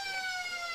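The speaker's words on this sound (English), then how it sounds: "The siren went before the ball got to his hands." A quarter-end siren sounds at an AFL match between the Lions and Goannas in the Riverina league, a loud, steady, sustained tone rich in harmonics.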